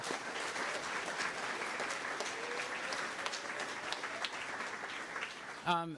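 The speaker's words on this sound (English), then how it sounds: "A big round of applause for them as well." An audience at a community celebration event applauds steadily for several seconds, a broad wash of clapping heard from a distance, ending as a voice begins.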